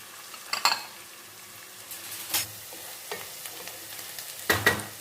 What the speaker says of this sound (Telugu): పెద్దుల్లిపాయ ముక్కలు వేసేసుకుందాం. ఇందులోనే పచ్చిమిర్చి కూడా వేసేసుకుందాం.